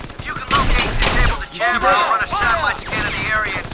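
Rapid bursts of video game gunfire from Crysis Remastered crackle loudly, overlapping with excited shouting voices throughout.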